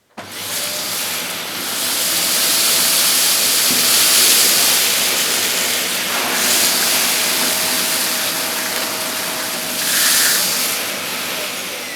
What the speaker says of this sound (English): I'm going to pass the nozzle through the middle of this on maximum. One pass forward and one pass back.